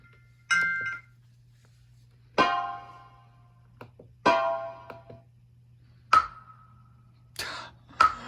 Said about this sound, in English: Oh, FM makes some beautiful bell sounds.